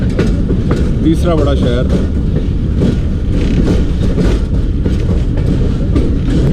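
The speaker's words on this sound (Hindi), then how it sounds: "40 down Jafar express Sukkur railway station पे एंटर हो गई है ML3 के ऊपर" Jaffar Express train on the ML3 line rumbling loudly along the rails as it enters Sukkur railway station, with steady clattering wheels and brief squeals while someone speaks briefly over the noise.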